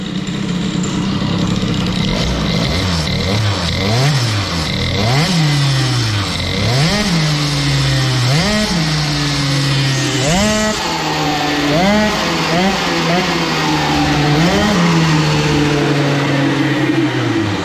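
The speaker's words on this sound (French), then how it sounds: "Vous allez pouvoir entendre la réaction d'un moteur 50 cm3 avec un variateur de 500 grammes." A 50cc moped engine with a 500-gram variator and stock cylinder revs up and drops back repeatedly, roughly every two seconds, loud and close, with a buzzing idle between bursts.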